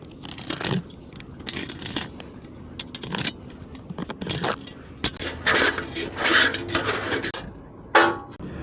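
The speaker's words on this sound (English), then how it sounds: "I use a Sawzall. And even cooler, it's corded." A corded reciprocating saw rasps through material in uneven bursts, harsh scraping strokes starting and stopping, close and fairly loud, no talking.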